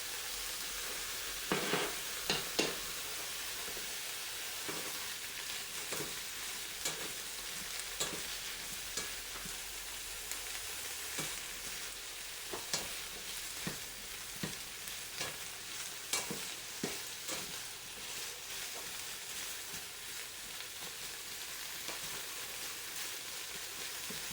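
Meat and vegetables stir-frying in butter in a pan, a steady soft sizzle with scattered stirring scrapes and clicks throughout, fairly quiet with no talking.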